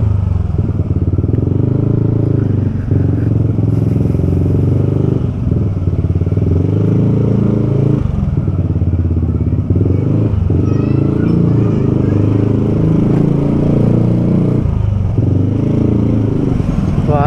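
A Yamaha Aerox scooter rides along with its engine droning continuously at close range, rising and dipping slightly, with occasional clatter and faint background voices.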